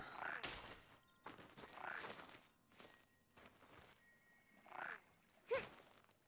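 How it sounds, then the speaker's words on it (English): A few scattered duck quacks from the video game Unfinished Swan, soft and fairly distant, mixed with light footsteps and quiet ambience. "I can hear the duck."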